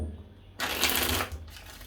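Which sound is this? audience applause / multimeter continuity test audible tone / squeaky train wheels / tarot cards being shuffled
tarot cards being shuffled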